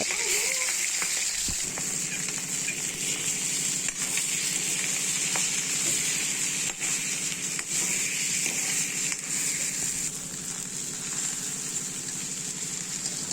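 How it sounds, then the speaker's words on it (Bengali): Shrimp sizzling in mustard oil in a pan for a Bengali mocha chingri dish, a steady, close, dense frying hiss that continues unbroken with no talking. "আলুগুলো ভাজা হয়ে যাওয়ার পরে আমি চিংড়ি মাছগুলোও ভেজে নেব"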